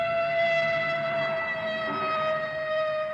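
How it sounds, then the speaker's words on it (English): An ambulance siren passes on the street, a steady loud wailing tone with layered harmonics holding for the whole stretch, close and unbroken, with no talk over it. "Here comes a fire truck. Oh, an ambulance."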